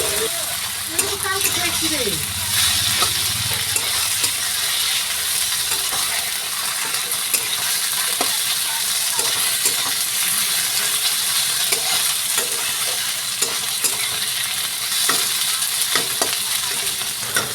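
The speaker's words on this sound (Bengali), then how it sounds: "মশলাগুলোকে নাড়াচাড়া করে নিয়েছি।" Ginger, garlic and green chili paste with spices stirred and frying in a pan for chickpea ghugni: a constant sizzle with rhythmic spoon scrapes and clicks throughout, a voice briefly heard at the start.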